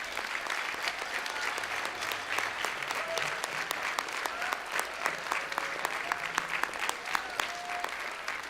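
A school-concert audience applauds the band boosters and parent volunteers in a steady, dense wash of clapping that runs the whole stretch, with a few sharper individual claps standing out and no talk over it.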